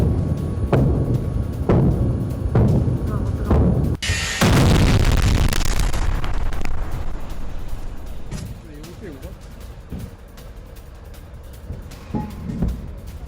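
A missile explosion near the Lebanon border in the Sula area of northern Israel: a sudden, loud, broad blast that rumbles and fades over a couple of seconds, amid other background noise and voices.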